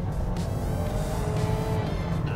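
A 2021 Ford Bronco Sport Badlands engine drones steadily from inside the cabin as a paddle-shift downshift brings a rising, tonal rev over a constant road rumble.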